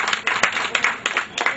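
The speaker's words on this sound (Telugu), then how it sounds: "వారికి అందరు కొద్దిగా చప్పట్లతో స్వాగతం పలకవలసింది." A small crowd claps at a free health camp to welcome performers, with scattered, uneven hand claps, several separate bursts close by and modest in volume.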